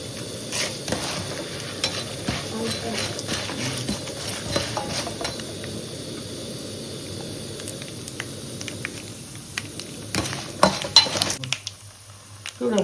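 Curry leaves sizzling and being stirred in hot oil in a pan for tamarind rice, a steady close frying crackle with scraping stirs and a few clinks of utensil on metal, continuing throughout without talk.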